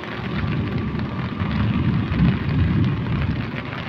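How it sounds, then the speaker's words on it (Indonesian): Steady animated-cartoon rainfall, a dense rushing hiss with low rumbling underneath, moderately loud and unbroken for a few seconds, with no voices. "Hujan, Bah."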